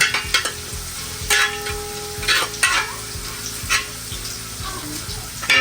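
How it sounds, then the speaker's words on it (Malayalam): Ginger and garlic sautéing in a pan, a soft steady sizzle punctuated by sharp spatula clicks and scrapes against the metal every second or so, close by with no talk. "ഇഞ്ചിയുടെ വെളുത്തുള്ള ഒരു കുത്തൽ മണമുണ്ട്, അതൊന്ന് മാറുന്നത് വരെ നമ്മൾ വഴറ്റിയിട്ട് കൊടുക്കണം"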